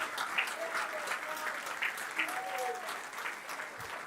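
Church congregation applauding during a Portuguese-language sermon, a steady wash of clapping that runs the whole time, with faint voices and cheers mixed in.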